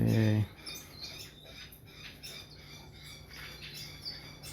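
Small birds chirp and squawk faintly in an indoor bird room, with a new quarantine and holding aviary for chicks, under a steady low hum after a brief loud thump at the start.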